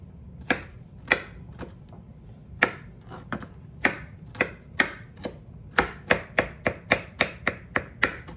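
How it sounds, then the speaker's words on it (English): A knife finely chopping vegetables for a chopped salad, striking a cutting board in close, crisp taps that start sparse and irregular, then quicken into a steady run of rapid chops toward the end. "You just want to chop them nice and fine, nice and small"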